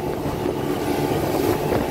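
A small 30 hp outboard motor on a lake drones steadily, a continuous mid-loud engine hum with faint water and wind noise and no voices.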